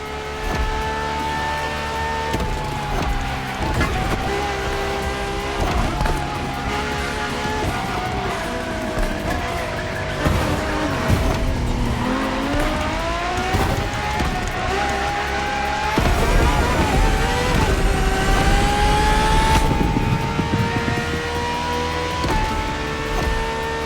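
Ferrari LaFerrari hybrid supercar driven in a racing video game, its engine droning loud and steady with rising and falling pitch through gear changes, growing louder near the end.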